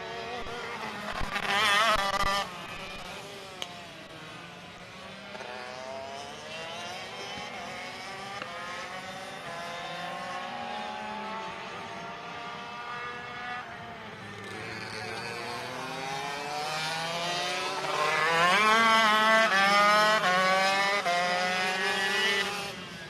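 Shifter racing karts, ROK Shifter 125 and Master ROK classes, race at Sonoma. Several high-revving engines whine and sweep in pitch as they pass at mid distance, and the pack swells louder near the end, with a faint voice underneath.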